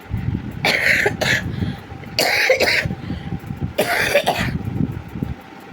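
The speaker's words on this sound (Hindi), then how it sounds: "ज़िंदगी हराम कर रखी है इस खांसी ने।" Three loud bursts of coughing, each a rough, harsh cluster of a few hacks, separated by short pauses against a low background hum.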